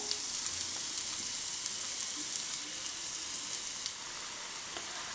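Ground amla herb paste sizzling in hot oil for homemade hair oil, a dense, even crackle close by and steady throughout with faint scattered pops.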